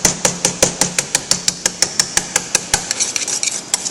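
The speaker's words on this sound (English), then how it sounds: "I'm actually going to start whipping this. I'm going to use a wire whisk." A wire whisk beating ingredients in a bowl, a rapid, steady series of sharp metallic clicks about five per second, loud and close, with no talking.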